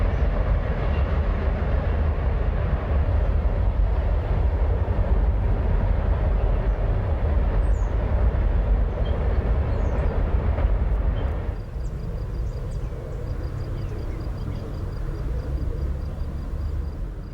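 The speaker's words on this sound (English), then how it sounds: "The fishermen barely notice the trio of growling locomotives and the train." A northbound CSX freight train pulled by three growling locomotives near Decherd, Tennessee, gives a loud, continuous low rumble and roar that drops to a quieter steady rolling sound partway through.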